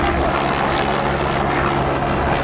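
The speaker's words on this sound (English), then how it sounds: "Hey, helicopters." A helicopter passes overhead outdoors near a harbor in Greece, giving a steady, loud rotor and engine drone that holds evenly throughout with no voices over it.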